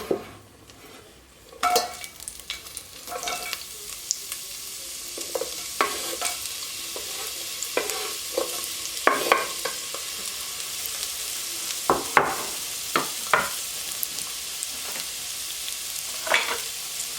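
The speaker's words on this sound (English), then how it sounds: "I'm going to add the onions and garlic in" Onions and garlic frying in a hot pan for asparagus soup: steady sizzle with repeated scraping stirs and light clinks of a utensil against the pan, close and without voices.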